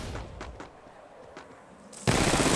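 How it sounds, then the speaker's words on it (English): Gunfire in the battle royale shooter Apex Legends, with a few quick shots early on followed by a loud sustained burst of automatic fire near the end, with no talking. "Battling the enemy. Opening fire."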